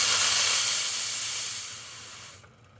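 A La Pavoni espresso machine's steam wand opened briefly to vent pressure gives a loud, close, steady hiss for a couple of seconds, then fades and cuts off sharply.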